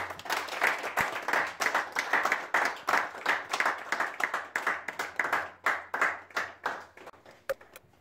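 A church congregation claps in rapid, steady rhythm to acclaim the Lord, a close, moderately loud burst of hand claps that thins out and stops near the end.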